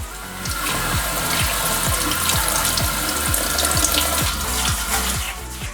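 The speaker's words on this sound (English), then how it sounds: "we will wash the sand under running water to remove any debris, dust, or clay" Sand being rinsed under a running tap to wash out debris, dust and clay, a steady close rush of water with rhythmic gritty scraping pulses throughout, no voices.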